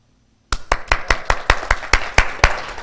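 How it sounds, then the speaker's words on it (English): A church congregation claps in unison after silence: about a dozen sharp, evenly spaced claps in a steady rhythm, loud and close, with nothing else heard. "Clap your hands, all ye people."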